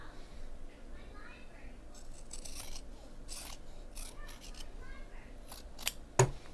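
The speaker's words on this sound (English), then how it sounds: "And I will trim these seams" Scissors snip along the fabric seams of a sewn handbag, giving soft crisp cuts with a couple of sharper snips near the end, close and fairly quiet, with no talk over them.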